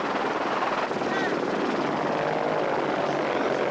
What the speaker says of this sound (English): our helicopter picks up more people stuck in the dunes